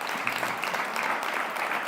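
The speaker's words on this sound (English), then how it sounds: "Can you give them a round of applause" Steady applause from a crowd, dense and even throughout, heard from a moderate distance with no voices standing out.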